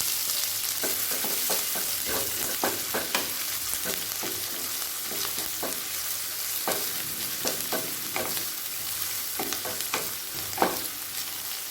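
Onion sizzles in hot oil with a cinnamon stick and cumin seeds in a kadai. A continuous fry hiss runs throughout, broken by frequent scraping strokes of a stirring spoon.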